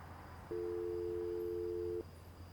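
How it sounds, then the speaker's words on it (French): An outgoing telephone call produces one steady ringback tone lasting about a second and a half, starting after a short pause and ending abruptly, with faint room hiss around it. "Chloé prend immédiatement son téléphone et appelle Sophie."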